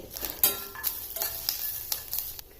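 Sliced onions and roasted coconut stirred while frying in a pan, with a soft sizzle underneath a series of close scraping spatula strokes roughly every few tenths of a second, and no voices.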